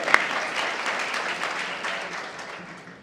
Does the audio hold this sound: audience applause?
yes